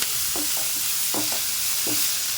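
Onions frying in a pan for a bhindi (okra) fry, a steady broadband sizzle with a few soft scraping stirs repeating at an even pace, close by and with no voices.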